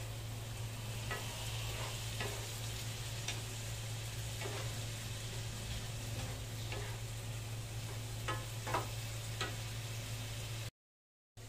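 Ground pork giniling sizzles steadily in a pan while being dried out, with soft scraping stir strokes recurring every second or so over a constant low hum, then a sudden brief cut to silence near the end.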